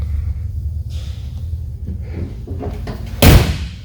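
A restored 1963 Impala's car door shuts with a single solid thud near the end, after a stretch of low rumbling background noise.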